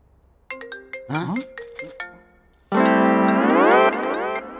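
A mobile phone rings with a bright melodic ringtone, short tonal phrases followed by a louder sustained sweeping tune, close and clear with no talk.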